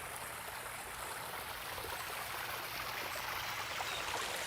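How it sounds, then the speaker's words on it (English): A small garden pond water feature gives off a soft, steady trickle of flowing water, faint and continuous, with no voices. "We have a little pond, little water feature,"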